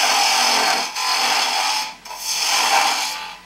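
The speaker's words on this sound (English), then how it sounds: "you rub the bevel against the wood" A lathe tool's bevel rubs against spinning wood while a bottle stopper is turned, a steady close hissing scrape in three long passes separated by brief pauses.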